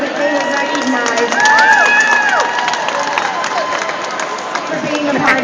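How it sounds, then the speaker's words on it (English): A large crowd cheers and shouts at a head-shaving charity event, with whoops and raised voices over a steady, loud roar of noise; applause is not clearly distinct from the cheering. "I would love to just give them a round of applause so that they know that they were recognized"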